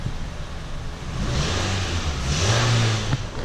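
Engine of a 2013–2019 Nissan Versa Note with a newly swapped CVT transmission, revving steadily and rising in pitch as it runs through the gears, close and continuous with no talking.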